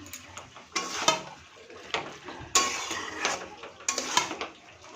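Prawns go into a pan of bottle gourd and get fried and stirred, with repeated metallic scrapes and clanks of a spatula in bursts over a faint sizzle, close up and without speech.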